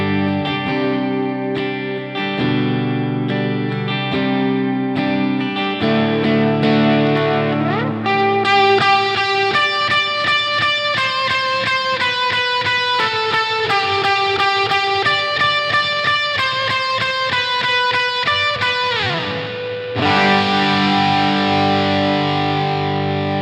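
Distorted electric guitar plays a run of sustained notes, each ringing out into a long, washy reverb tail that blurs into the next.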